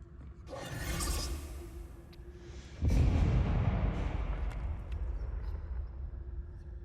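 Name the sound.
explosion in the video game Hogwarts Legacy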